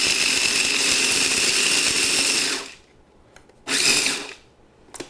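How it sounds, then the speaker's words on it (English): Loud, close whir of a kitchen grinder chopping pistachio nuts runs steadily for about two and a half seconds, stops, then gives one shorter burst, with no talking. "I've got some pistachio nuts, and I am going to put them in my grinder. We're going to grind them down."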